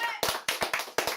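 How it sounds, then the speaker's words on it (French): Applause from a small audience at the end of a film screening, a few quick claps in a short sharp pattern, close and brief. "on applaudit"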